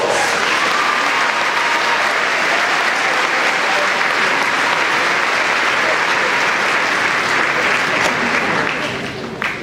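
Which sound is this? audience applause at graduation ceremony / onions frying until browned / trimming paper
audience applause at graduation ceremony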